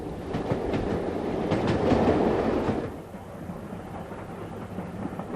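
A train on the West Highland Railway in 1988 rumbles along the tracks with a steady clatter, loud for a few seconds before dropping to a quieter, distant hum.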